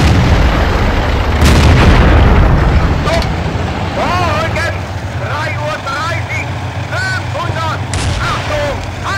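Tank battle in the Steel Fury video game: heavy booming explosions and cannon fire over a constant engine rumble, with scattered clanks and radio-like chatter in the game mix.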